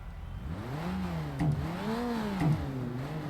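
A Subaru Impreza's engine in the Forza Motorsport video game, revving up and down in smooth repeated sweeps with brief shifts between them, steady and fairly close, with no voices.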